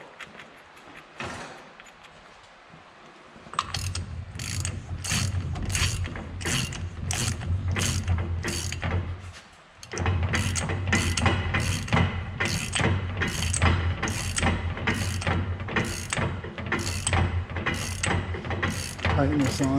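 A ratchet tightens the pinion nut on a GM AAM rear axle, giving steady rapid clicking in repeated strokes, close and loud, with a brief pause midway.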